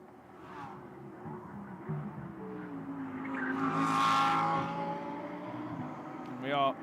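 SRO GT Cup race cars getting up to speed at a Beijing circuit, engines rising and falling as they pass, one swelling to a loud peak mid-way before fading, with a commentator talking over them.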